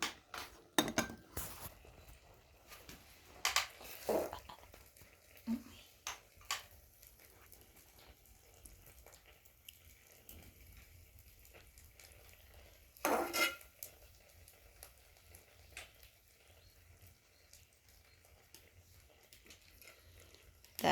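Cooked rice being stirred in a pot for rice and milk pudding, heard as scattered utensil scrapes and clinks against the pot, quiet and intermittent, with a louder burst of clatter partway through and no talk.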